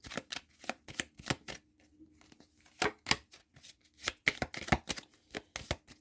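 Tarot cards are shuffled in a quiet room, a series of soft crisp riffles and slaps in irregular bursts, close and fairly faint, with no voices.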